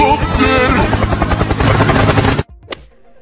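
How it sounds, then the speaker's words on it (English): A loud, close helicopter in a sound-guessing quiz gives a rapid rotor chop layered with engine roar and mixed effects, then stops suddenly, followed by a short sharp hit and near quiet. "Helicopter."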